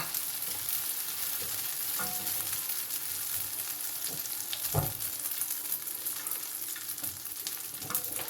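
An egg omelette with spices fries in cooking oil on a tawa griddle, a constant bright crackling sizzle with occasional knocks and scrapes from a spatula.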